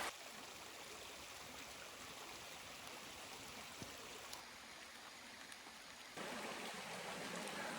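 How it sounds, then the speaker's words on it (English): A small creek in Algonquin backcountry near the Oxtongue River flows steadily, a continuous broadband rush of water close by that grows slightly louder near the end. "Now we come across another creek"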